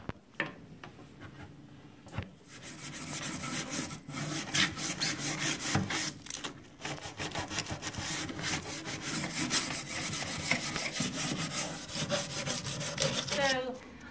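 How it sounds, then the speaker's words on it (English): Sandpaper of 220 grit rubs lightly across a wooden table in quick repeated back-and-forth strokes, a close raspy scratching that stops briefly now and then. "I'll be taking some 220 grit sandpaper and just kind of lightly getting the shine off of it"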